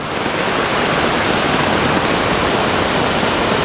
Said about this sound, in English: just having a look at this creek